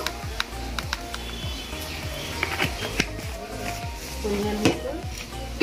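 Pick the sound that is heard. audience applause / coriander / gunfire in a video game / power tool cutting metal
coriander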